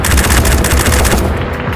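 FN MAG machine gun in the VR game Tactical Assault, firing a loud, dense sustained burst of rapid shots that cuts off near the end.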